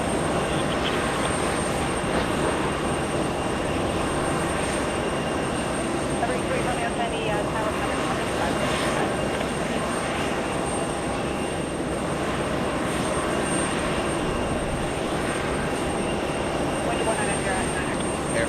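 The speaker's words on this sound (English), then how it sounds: "Lufthansa 747 Queen of the Skies will be taking off in the same runway" Lufthansa Boeing 747 taking off at JFK airport, a steady, broad engine roar with a high whine that stays loud and constant throughout.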